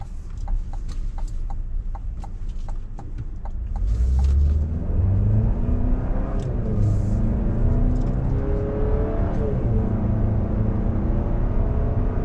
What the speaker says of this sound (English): And the vehicle gets up to speed all right.